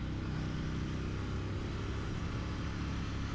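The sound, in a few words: Royal Enfield Interceptor 650 motorcycle accelerating round a roundabout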